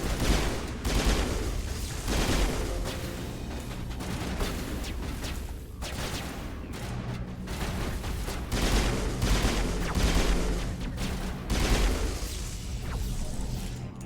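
Sustained gunfire against Geth in Mass Effect, dense overlapping bursts of shots and impacts continuing loud and busy throughout.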